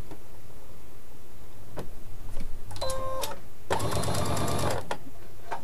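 A sewing machine stitching a multicoloured fabric appliqué: a few isolated clicks, a short whirring run of stitches, then a louder, steady burst of rapid stitching that stops abruptly, close up.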